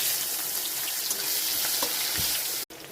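Chopped onion frying in leftover fish-frying oil in a wok for a Bengali fish curry, a steady close sizzle with light stirring scrapes, cutting out abruptly near the end.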